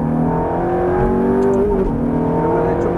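A Ferrari F430 accelerates hard with a loud, steady engine roar that climbs continuously for a few seconds, close and dominant with no talk over it.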